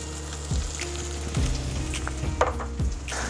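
Chopped green onions, cilantro and parsley cook down in a hot pan with a steady, close sizzle and a few light stirring scrapes and clinks, no voices over it.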